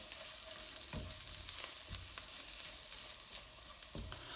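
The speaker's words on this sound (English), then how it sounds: "So cook this for a couple of minutes. Just get the spice all mixed in, cook through" Onion and spices for biryani rice frying over medium heat, stirred: a quiet, steady sizzle with occasional soft knocks and scrapes of the spoon, heard alone.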